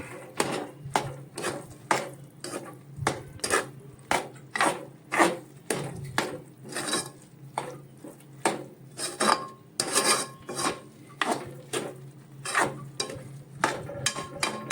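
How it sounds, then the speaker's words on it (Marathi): Vegetable curry being stirred into cooked rice in a pot, with repeated scraping and clinking strokes of a spoon against metal in a steady rhythm, close up with no talking. "ही सगळी भाजी ही आम्हाला तांदूळात घालतोय भातात आणि व्यवस्थित अशी ही मिक्स करून घेतोय"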